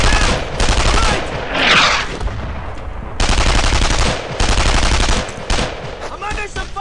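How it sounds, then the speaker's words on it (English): Intense gunfire in the WWII shooter Brothers in Arms: Earned in Blood, loud sustained machine-gun bursts and rifle cracks rolling in waves with brief lulls between, close and overwhelming, with a short whistling sound mid-barrage. "I'm under some fire here."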